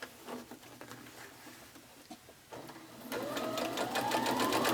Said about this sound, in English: And we can sew the whole row at once.